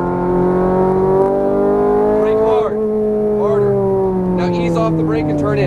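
A Ferrari 430 Scuderia's engine revs hard at full throttle on a track, a loud close roar whose pitch rises steadily, with a brief shift-like dip midway, and a voice talking over it.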